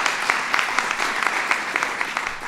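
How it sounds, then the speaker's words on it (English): An audience applauds steadily, a dense patter of many hands clapping at an even level for a couple of seconds with no talking. "let's give her a round of applause"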